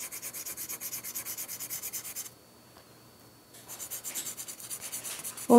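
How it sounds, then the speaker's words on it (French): A pastel crayon rubs lightly across paper in quick, even back-and-forth strokes, pausing for about a second midway before resuming; a close, soft, scratchy sound with no talking. "je vais juste comme colorier légèrement partout avec la couleur du pastel"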